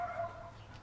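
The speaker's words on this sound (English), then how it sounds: "somebody's dog is upset." An upset dog barks faintly in the distance, a short, thin burst at the very start that fades into quiet room tone.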